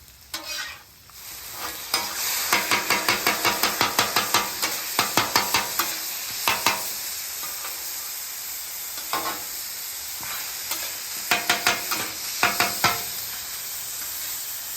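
Frozen cheese steak meat sizzles on a hot griddle under a steady hiss, with quick rhythmic metal scraping and chopping strokes coming in repeated bursts.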